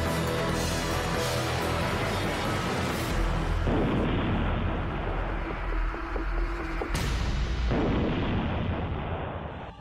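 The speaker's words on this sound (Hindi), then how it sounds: "तभी अगले ही पल जोरदार धमाका होता है और अफरा तफरी मच जाती है" A powerful explosion from a drone strike on Armenian soldiers' position in military attack footage, heard as loud, dense, continuous rumbling and blasting that lasts several seconds.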